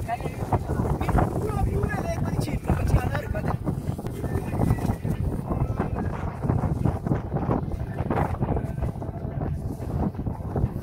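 Cold wind gusts steadily over a mountain road near Naran toward Lake Saif-ul-Malook, a broad rushing roar of buffeting air against the microphone, loud throughout with people talking over it.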